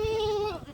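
A lamb bleats loudly and close by while being caught and held by its four legs in a Tamil village, one wavering cry that falls in pitch and then trails off.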